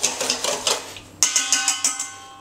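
A whisk or utensil clinks against a bowl while quiche filling of eggs, salt, nutmeg and cayenne pepper is mixed, giving a quick, rhythmic series of sharp metallic taps, close and fairly quiet, with a short pause midway.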